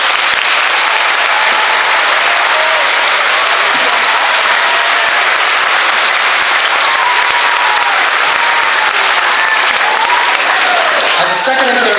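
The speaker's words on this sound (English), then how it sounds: "offer one more round of applause to all the veterans here today" A large crowd at a school veterans honors program claps loudly and continuously, dense sustained applause filling the whole stretch with a few scattered voices underneath.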